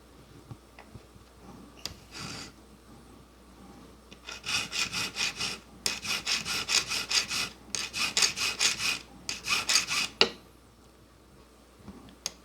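Hand file rasping across the soldered sides of a small square metal jewelry frame, quiet scattered scrapes first, then four close bursts of rapid back-and-forth strokes separated by short pauses.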